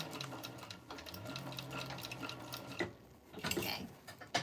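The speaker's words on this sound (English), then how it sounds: "Back stitch really good here." Sewing machine back stitching across the end of a seam on a tote bag, its steady mechanical whir running for a few seconds, pausing, then bursting briefly again in short, close, fairly loud runs.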